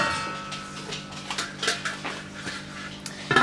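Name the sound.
covering a pot with its lid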